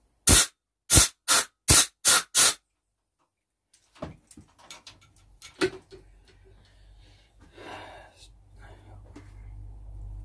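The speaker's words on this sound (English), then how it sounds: "I'm going through all these parts, cleaning them with carb cleaner and blowing them out with air." Six short, sharp blasts of compressed air blow out vintage motorcycle carburetor parts cleaned with carb cleaner, evenly spaced and loud, followed by quieter clicks and handling clatter on a workshop bench.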